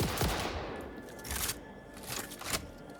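Bursts of video game gunfire rattle through a factory-building game, several quick volleys separated by short pauses, close and fairly loud over a steady background.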